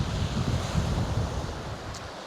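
Wind buffets the microphone on an open beach at Totland during a fishing match, with steady surf rumbling underneath, loud and continuous throughout.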